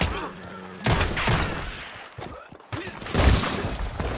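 Gunfire from shootouts in Red Dead Redemption 2 cracks out in several sharp bursts and single shots, close and loud, scattered irregularly over a busy game soundscape.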